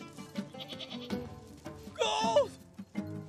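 A goat gives a single wavering bleat, loud and near, after a stretch of quiet talking and background movement, with a few soft thumps afterward.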